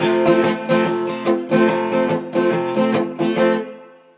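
An acoustic guitar strummed openly in a steady rhythm, chords ringing full and sustained, then the last chord fades out.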